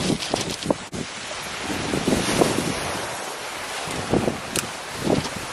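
Strong wind gusts across the shore during a sea fishing session at Selsey, roaring into the microphone over crashing surf that swells and fades throughout.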